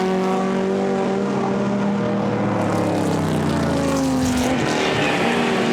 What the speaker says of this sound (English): There's a Mazda coming in, blowing its nose by the sounds of things, the Mazda Rotary.